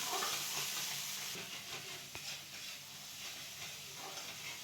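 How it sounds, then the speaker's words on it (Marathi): A ground masala paste is sautéed and roasted in a pan for a chilapi fish fry, giving a soft, continuous sizzle and hiss with occasional stirring scrapes, fairly quiet and without speech. "आता हे परतून घ्यायचं आपल्याला मस्त आता खरपूस भाजून घ्यायचं"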